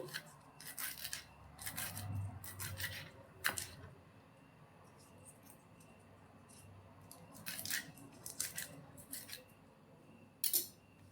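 Curry leaves are cut into small pieces for curd bonda, heard as quiet, quick snipping clicks in short bursts separated by pauses.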